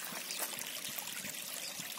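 Sewage water flows down Gazovikov street in Lysychansk as a faint, continuous trickling and gurgling, quiet and distant, with no voices.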